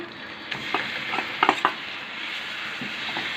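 Meat fries in a hot pan with a steady sizzle. A few clinks and scrapes of a spoon stirring against the pan sound over it, and no one speaks.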